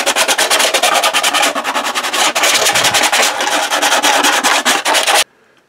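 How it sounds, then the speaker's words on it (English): Sandpaper deburrs the edges of a B-Wing helmet prop part in fast, steady back-and-forth rasping strokes, close and loud, stopping abruptly at the end. "And then you can deburr all those edges with a little sheet of sandpaper."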